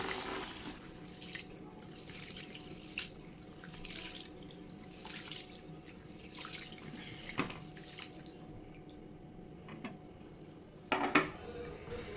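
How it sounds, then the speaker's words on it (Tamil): Water poured over multigrain kernels in a bowl to wash them for dosa batter, a faint splashing and trickling with scattered small knocks and clinks, fairly quiet and close. "இப்போது தண்ணி ஊற்றி நம்ம மூணு தடவை கழுவி எடுத்துக்கலாம்"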